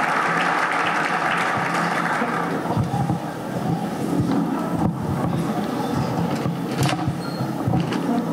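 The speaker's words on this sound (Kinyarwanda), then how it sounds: "Dukomera Imana amashyi" A church congregation breaks into loud, sustained applause during a service, a dense wash of clapping filling the room for several seconds with no talking over it.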